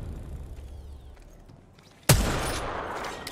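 A burst of gunfire from the video game Apex Legends erupts suddenly after a quiet stretch of faint ambience, a loud close volley followed by a sustained rumbling tail and scattered crackles.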